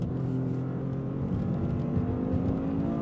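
A 2025 Toyota GR Corolla with its 300-horsepower turbocharged 1.6-liter engine and automatic gearbox, driven on a twisty road: a steady, droning engine hum and road rumble heard from inside the cabin, constant and moderately loud.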